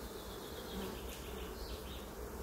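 Honeybees buzzing over brood frames pulled from a hive during an inspection, a dense continuous drone of many wings with a few closer individual passes, alone and fairly faint.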